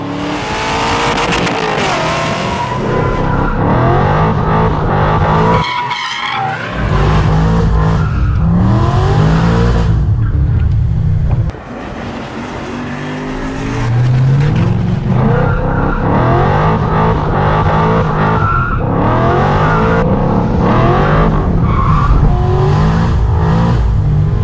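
A BMW Z8 with an S62 V8 engine drives with loud, sustained engine roar, revving and rising and falling in pitch, with tire squeal, continuous and near, briefly dipping midway.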